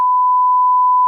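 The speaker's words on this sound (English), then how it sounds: "that's the best thing about a beep is you try and guess what they said" A single continuous pure-tone censor bleep masking a swear word, loud and steady for about a second, standing alone without other sound.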